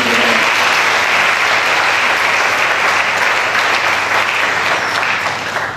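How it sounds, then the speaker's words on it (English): A crowd at a university reception honoring an outgoing vice chancellor breaks into loud, sustained applause, thick continuous clapping close by that holds steady throughout. "I think it deserves a round of applause"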